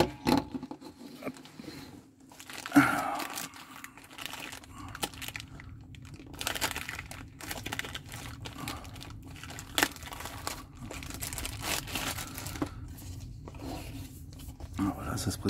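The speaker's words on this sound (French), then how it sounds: "on va faire le déballage de la boîte" Cardboard and plastic packaging of an Amazon Fire TV Stick box being opened inside a camper van, with close, irregular crinkling and tearing bursts interleaved with someone talking.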